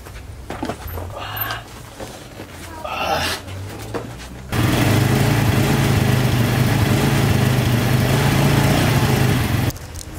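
A loud, steady four-wheeler engine drones continuously while ridden, cutting in abruptly after a stretch of scattered talk and movement, then stopping sharply near the end.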